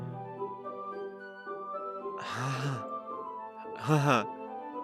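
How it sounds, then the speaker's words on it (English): Two sharp breathy inhales, like air sucked through teeth, rise over a soft tonal game music bed during a Doki Doki Literature Club playthrough, close and fairly loud, spaced about two seconds apart. "It sounds like breathing. A sharp inhale, like someone is sucking the air through their teeth."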